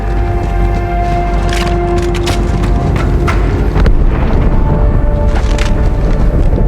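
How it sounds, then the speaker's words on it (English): A large explosion aboard the ship Athens in the video game Halo 2, heard as a loud, sustained deep rumble with rolling blasts and debris-like crackles, continuous and close for the whole stretch. "That explosion came from inside the Athens, same as the Malta."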